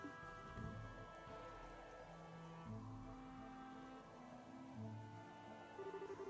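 Steady rain in the video game Trails in the Sky the 3rd falls as a soft, even hiss beneath quiet background music.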